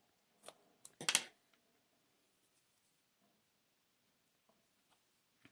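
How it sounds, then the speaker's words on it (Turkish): Scissors snip off excess thread while stitching a velvet teddy bear's face, two or three sharp close clicks early on, then near silence with a few faint ticks. "Burada ipimin fazlasını kesiyorum artık."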